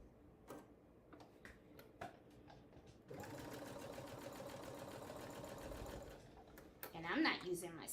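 A sewing machine stitches an accessory case with a quarter-inch seam. Scattered soft clicks and handling sounds come first, then a steady, close mechanical whir of stitching for about three seconds. It stops, followed by a brief louder rustle.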